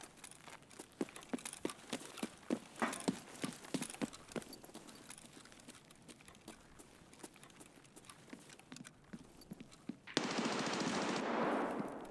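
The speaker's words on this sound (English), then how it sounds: "I kind of want to kill whatever the hell's shooting because it's doing my head in." Distant gunfire in the shooter game SPT, scattered cracks and short bursts sounding far off and fairly faint, with a louder rushing noise near the end and no talking.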